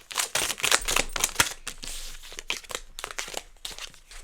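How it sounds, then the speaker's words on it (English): A stiff, hard-to-shuffle deck of cards being shuffled gives a run of close, crisp riffling and snapping bursts in an uneven rhythm, with no talking. "This deck is so hard to shuffle."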